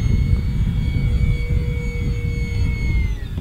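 An E-flite RV-7 1.1m radio-controlled model airplane makes a slow pass overhead, its electric motor giving a loud, steady whine that holds on and then eases slightly lower as it goes by.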